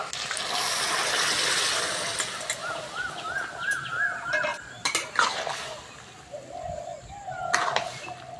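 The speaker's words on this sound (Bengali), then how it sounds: "ছোলার ডাল আর মটর সিদ্ধ দিয়ে দেবো" Boiled split chickpeas and peas are added to a pan of fried spices for a ghugni curry, with clinks of a utensil against the pan, faint sizzling and scattered kitchen clatter close by, no one talking.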